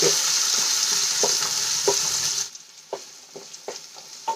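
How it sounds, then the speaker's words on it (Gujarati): Vegetables sauté with a sizzle in a hot pan while a utensil stirs with periodic scraping taps; the sizzle drops sharply halfway, leaving quieter stirring clicks. "હવે બધી વસ્તુને આપણે બે મિનિટ માટે સાંતળી લેવાની"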